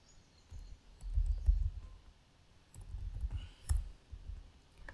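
Computer mouse clicks sound in two short bursts of quick, light clicking, close and fairly quiet against a faint background hum, with no voices.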